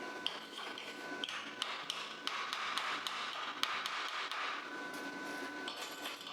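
Slag being knocked off a fresh fillet weld while building a steel table, a series of light irregular metallic taps and clicks over steady workshop hiss, fairly close.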